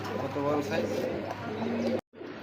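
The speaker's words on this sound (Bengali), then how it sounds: "আর ডাকতেছে এটা হচ্ছে নর কবুতর" A male red Lahori pigeon coos in low, rolling calls at close range, partly under a voice talking over it.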